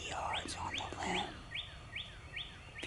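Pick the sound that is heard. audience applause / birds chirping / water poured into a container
birds chirping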